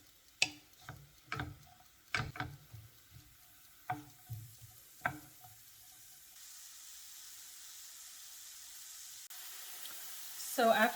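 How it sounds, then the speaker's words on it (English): Garlic and onion cooking in a pan for a homemade cheeseburger filling, with a few sharp clinks of stirring early on and then a soft, steady sizzle that runs quietly to the end. "You're going to let this cook for about 2 minutes, stirring occasionally."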